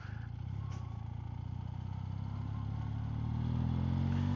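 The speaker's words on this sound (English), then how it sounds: "Still a little lean bogged down when I open up the throttle." A BMW Airhead motorcycle engine running lean and bogging as the throttle opens during a ride, a steady low drone that swells slowly without crisp revving, with wind noise over it.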